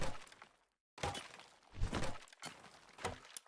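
Mud shot attack in the Palworld video game: three or four sharp, splattering impacts in quick succession, each a short burst with a cracking, breaking quality, separated by brief gaps.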